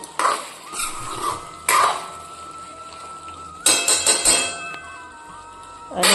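Spoon stirring chopped coriander into cauliflower and potato curry in a pan, several bursts of scraping and clinking of metal against the pan separated by quieter pauses, close and clear.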